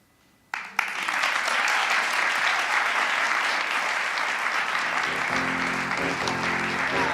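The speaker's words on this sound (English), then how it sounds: "Let's hear some more applause." After a brief hush, applause bursts in at a live poetry reading and holds as a loud, dense patter of many hands, with a faint voice briefly murmuring underneath near the end.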